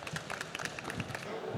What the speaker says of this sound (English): A big round of applause for our superstars